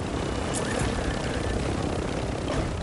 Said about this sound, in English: Oh, there's a heli chopper.